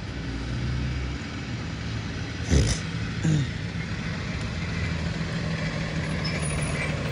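Road vehicles idle under steady traffic rumble, a low continuous engine drone broken by one loud air-brake hiss and a second softer hiss a moment later.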